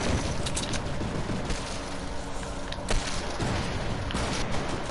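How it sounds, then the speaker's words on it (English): Gunfire in the video game Fortnite: dense, continuous crackling shots and bursts with a few heavier booms, loud and unbroken for the whole stretch, with no talk. "You hear the sounds of gunfire."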